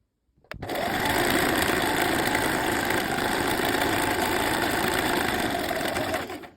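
A domestic sewing machine runs a continuous triple elastic stitch along a trouser seam, 7 mm from the edge, starting abruptly after a short silence and holding a steady, loud mechanical whir with rapid needle chatter until it stops near the end.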